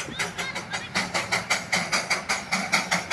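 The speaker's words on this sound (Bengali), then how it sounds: "ইতিমধ্যেই বাতাসিয়া লুপে প্রবেশ করেছে টয় ট্রেন। তো এটা স্টিম ইঞ্জিন।" Darjeeling's heritage steam toy train at Batasia Loop, a single-coach train hauled by a steam engine, chuffs in a steady, fast rhythm of close, evenly spaced exhaust beats throughout.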